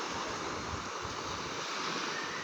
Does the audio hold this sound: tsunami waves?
yes